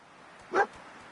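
A dog companion in the video game Fallout 4 gives a single short whine or yip, brief and close, surrounded by quiet game ambience.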